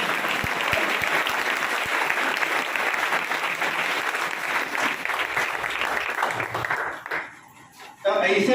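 An audience at an interview-style talk claps in sustained applause, steady and fairly loud for several seconds before it drops away briefly and then returns abruptly.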